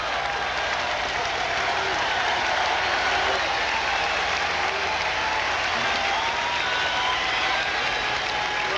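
Sellout Fourth of July baseball crowd at Fenway Park in Boston cheering and applauding steadily in sweltering heat, a dense roar of clapping and shouts with the Red Sox one strike from a sweep of Toronto.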